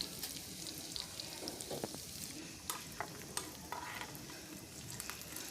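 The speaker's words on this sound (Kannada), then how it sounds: "ಇದು ಫ್ರೈ ಆಗ್ತಾ ಇದೆ" A tempering of curry leaves, cashews and chana dal fries in hot oil, giving a quiet, continuous crackling sizzle broken by scattered pops and stirring scrapes, with no talking.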